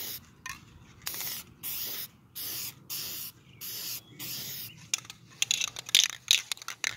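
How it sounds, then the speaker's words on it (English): Bursts of Flex Seal are sprayed from an aerosol can onto the metal roof of a camper, about six hissing sprays of roughly half a second each with short gaps, then faint rustling. "then I'll just spray over it with Flex Seal"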